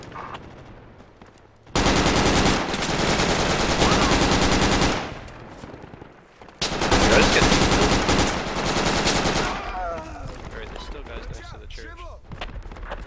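Heavy automatic gunfire near a church in Project Reality: two long, loud bursts of sustained machine-gun fire, with a pause between them and scattered shots trailing off at the end, while voices talk faintly underneath.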